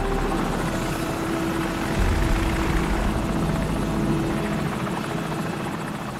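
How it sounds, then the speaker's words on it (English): An enemy helicopter in Call of Duty: Modern Warfare, on a mission near Pripyat in Ukraine, drones overhead with a loud, continuous rotor thrum and engine whine that swells slightly midway and stays steady. "Enemy helicopter, get down."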